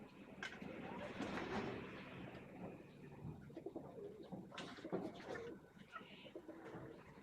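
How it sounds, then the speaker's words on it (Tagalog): Pigeons, including a brown one, coo softly in a repeating, murmuring rhythm, fairly close but quiet, over faint outdoor background noise. "Ito po ang ating unang kalapate rito sa ating video."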